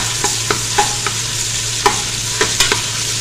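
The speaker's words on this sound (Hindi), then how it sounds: "अब हम इसमें डाल देंगे अदरक लहसुन का पेस्ट 1 टेबलस्पून और इसको हमने थोड़ा सा भून लेना" Ginger garlic paste fries in a pan with a soft continuous sizzle, punctuated by a regular series of light spatula scrapes and taps as it is stirred, with no talking.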